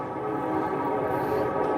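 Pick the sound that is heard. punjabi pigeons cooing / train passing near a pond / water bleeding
train passing near a pond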